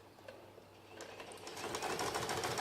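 A sewing machine stitches a mitered quilt binding, its motor hum building into a steady, fairly loud run of rapid stitching after a quieter start, with no voices.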